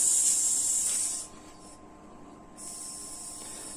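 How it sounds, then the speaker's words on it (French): Air escaping from a scooter tyre inner tube, a sharp steady hiss that cuts out briefly partway through, then resumes at a lower, quieter level. "Donc il faut vider en fait l'air de votre chambre."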